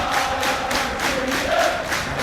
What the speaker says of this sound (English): the noise coming from the biggest crowd of the season at Scotland by a margin